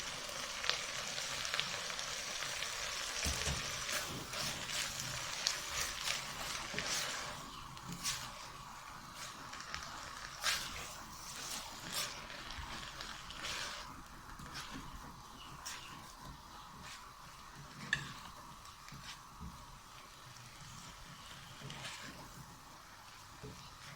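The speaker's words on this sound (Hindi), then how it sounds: "प्याज और बंद गोभी डाल के मैंने इसको मिक्स कर दिया अच्छी तरह से" Onion and cabbage for samosa filling being stirred and mixed in a pan: soft scraping and sizzling with intermittent stir clicks, fairly quiet, with faint birdsong in the background.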